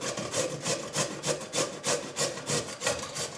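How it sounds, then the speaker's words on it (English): Potatoes scraped on a small hand grater make a close, rhythmic back-and-forth rasp, about two strokes per second, steady and unbroken with no voices. "I should have used a bigger grater"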